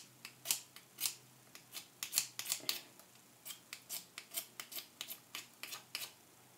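Repeated crisp snips of scissors, a quick uneven series of sharp cuts close by, quiet surroundings and no talking.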